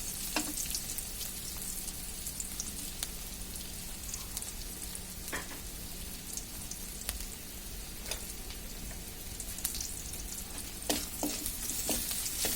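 Onions sizzle and crackle steadily in a hot pan, with occasional sharper pops and stirring scrapes, close up and with no talking.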